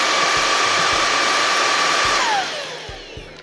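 An inexpensive stick vacuum cleaner fitted with a brush head runs in turbo mode, a loud, steady, airy motor roar with a high whine that drops in pitch and eases off near the end, with faint ticks and no voices.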